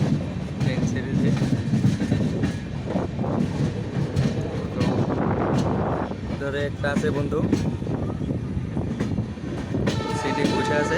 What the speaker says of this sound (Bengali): অল্প আগে ট্রেন ছেড়েছে